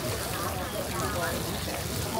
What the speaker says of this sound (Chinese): 还在滋滋冒油